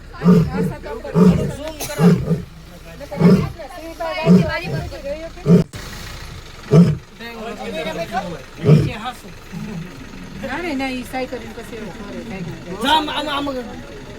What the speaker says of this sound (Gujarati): અમને સિંહ દેખાઈ ગયો છે. તેવી દ્રહાડો મારે છે તે તમે જુઓ.